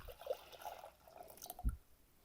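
Gorse flower dye liquid is poured back into a container, giving soft splashes and drips and ending in a short, deeper plop. The sound is quiet and close.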